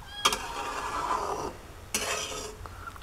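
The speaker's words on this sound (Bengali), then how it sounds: "হালকাভাবে নেড়ে দিতে হবে যেন তলে লেগে না যায়" A spoon scrapes slowly around a pan of homemade condensed milk, two long drawn scraping strokes with a metallic edge, close and moderately loud with no talking.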